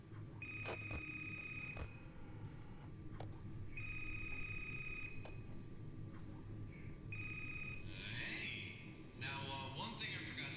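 A phone rings in Five Nights at Darl's, heard as three evenly spaced electronic trills over a constant low background hum. Higher chirping tones follow near the end.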